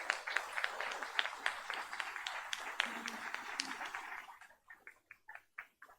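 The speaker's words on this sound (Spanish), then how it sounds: "me gustaría que le pudiéramos dar un fuerte aplauso" Applause from an audience at a book presentation, a quiet, sparse patter of clapping that thins out and fades into a few scattered claps near the end.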